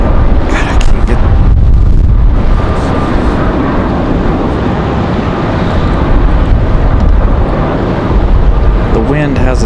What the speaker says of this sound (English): The wind has us all messed up over here.